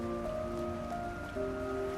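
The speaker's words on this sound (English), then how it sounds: "Rain goes plip-plop." Rain falls steadily in the Trails Through Daybreak video game, a continuous close patter with sustained musical tones ringing over it and no voices.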